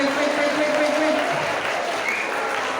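A big round of applause from a group at a school science session, steady dense clapping that fills the space, with a raised voice speaking over it.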